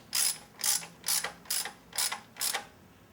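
A ratchet tightens a 10 mm valve cover bolt on a 2000 Mitsubishi Galant with a SOHC 4G64 engine, six crisp clicking bursts in an even rhythm, close and alone.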